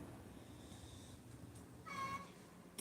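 A pet cat gives a short, faint meow near the end of a quiet indoor moment, a single brief call over low background hum.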